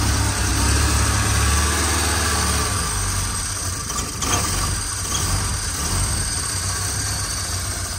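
A Ford Escort's engine idles steadily and fairly loudly close by, a continuous low drone with a slight dip midway, and no talking over it.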